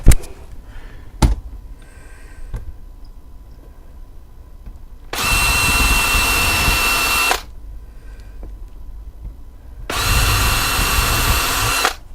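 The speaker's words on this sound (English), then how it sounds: "fix that in place with the drill and some screws" A power drill driving screws into a model railway track ramp whirs loudly in two sustained bursts of a couple of seconds each, separated by quieter moments with a few knocks and clicks.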